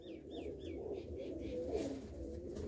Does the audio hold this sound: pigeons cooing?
yes